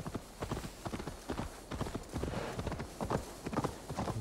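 Horse hooves clip-clop in Assassin's Creed Valhalla, a steady rhythmic trot of hoofbeats close by and fairly loud, with no talking over them.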